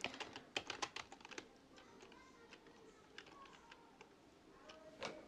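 Pygame code is typed on a computer keyboard, producing quick bursts of close, crisp key clicks that thin into sparse taps and then pick up again, with a quiet room behind.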